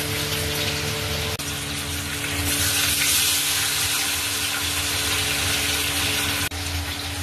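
A kitchen exhaust fan runs loudly during cooking of rui fish, a steady close drone with a humming tonal core and airy rush, briefly dipping twice, with no talk.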